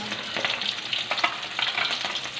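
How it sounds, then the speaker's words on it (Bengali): Pieces of rohu fish frying in a pan, giving a steady close sizzle with crackling bursts and spatter, with no talking. "এদিকে খানিক কটা ভাজা হচ্ছে"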